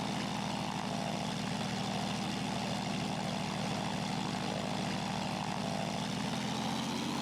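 A Zlin Z-142 single-engine propeller aircraft taxis in X-Plane 11 at a quaint country airfield, its engine droning at a steady, continuous idle with a faint, rising tone near the end, with no voices.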